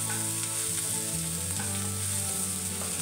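Green chillies sautéing in a little oil in a pan, a steady close sizzle and crackle with faint stirring, no voices.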